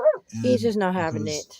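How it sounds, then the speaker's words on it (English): A dog yips and whimpers in short, high bursts, mixed in with someone speaking close by. "I apologize for my dog."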